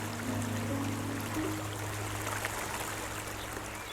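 Glacial meltwater of the Trümmelbach waterfall in Switzerland pours through rock inside a mountain, a steady rushing hiss with a faint low hum underneath, heard from some distance and fairly quiet.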